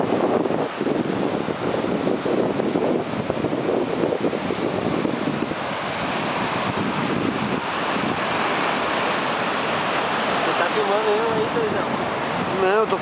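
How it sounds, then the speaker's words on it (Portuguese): Heavy ocean surf rolls and crashes steadily at Armação/Matadeiro beach in autumn, a loud continuous wash of breaking waves mixed with wind buffeting the microphone. "Eu acho que agora o mar levantou mesmo."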